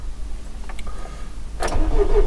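Car engine with a new battery cranking and catching after two weeks unused, a brief starter burst then a steady running rumble, close and loud over quiet background.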